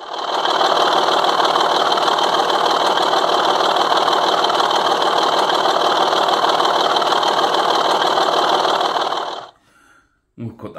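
A Suttons class 25 model diesel locomotive's sound unit drones with a steady, buzzing engine hum that runs unbroken for about nine seconds, then cuts out into near silence with a brief faint tail.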